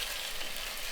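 Tomato sauce with calamari simmers in a pan, a soft, even hiss of sizzling close by, faint and continuous for a brief moment with no voices.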